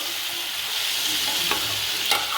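Bottle gourd curry (lau ghonto) is stirred in a pan, a steady close sizzle running throughout, with a couple of sharper scrapes of the spoon near the end and no voices.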